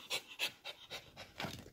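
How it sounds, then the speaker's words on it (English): A small dog pants in quick, close, rhythmic breaths, about six or seven puffs in under two seconds, alone with no talk over it. "You crazy little dog."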